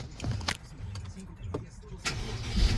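A 2011 BMW 550i with a V8 is push-button started from inside, with faint interior clicks and a short crank, then the engine catches with a low rumble near the end, with a person talking over it.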